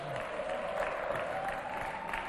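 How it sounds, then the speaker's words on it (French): Studio audience at a Chad television variety show applauding steadily, a dense continuous wash of clapping with faint crowd murmur and a sustained tone underneath. "On applaudit très très fort pour lui encore."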